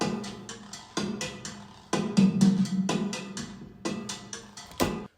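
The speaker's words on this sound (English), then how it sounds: "a thing called guiro." Latin percussion groove of a scraped guiro riding a rhythmic pattern, with repeated bright rasping strokes and a low pulse hitting every second or so, steady and fairly loud with no talking.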